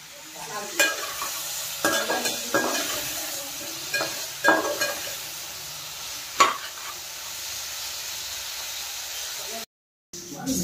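Marinated fish fries in a pan with a continuous sizzle broken by sharp scraping and stirring clicks, close by, cutting out briefly near the end.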